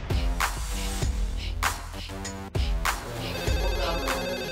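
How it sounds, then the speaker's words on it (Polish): Telephones ring in a prison monitoring centre, a repeating electronic ringtone with bright tonal bursts recurring roughly every second, loud and close over a steady background, with no talk. "Telefony prawie nie milkną."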